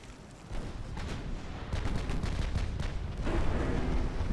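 Six-inch naval guns firing in a Greek naval warfare game, a rapid series of heavy booms and rumbling blasts that grow denser and louder over a few seconds.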